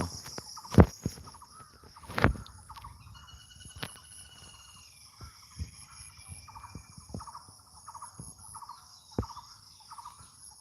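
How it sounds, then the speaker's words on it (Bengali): Birds call among trees and plants, with scattered chirps and a couple of sharp caws over a steady insect-like buzz in an otherwise quiet outdoor setting. "আসলে খুবই ভালো লাগে যে পাখির ডাক গাছপালার বাতাসের শব্দ"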